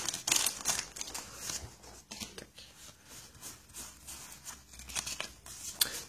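Crinkly plastic wrapper of a trading card booster pack being snipped and torn close up, a run of sharp rustles and rips at steady loudness with no talking.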